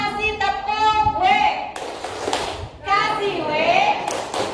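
Hands clap a quick rhythmic pattern for the letter W in a classroom-style cheer, crisp taps and thuds in short bursts mixed with lively voices talking and calling out over the claps.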